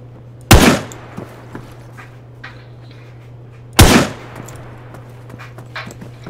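Two loud, sharp Smith & Wesson gunshots ring out about three seconds apart in the video game Breaking Point, each a close, broadband crack with a brief decay over a steady low hum and faint background sounds.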